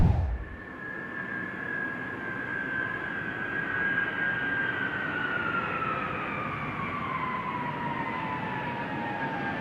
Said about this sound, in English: We're bringing this airplane here.